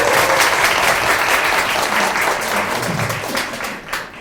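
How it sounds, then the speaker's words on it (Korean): A lecture audience breaks into loud, dense applause, steady clapping from many hands that carries on for several seconds before starting to thin out at the end. "박수 한번 칠까요?"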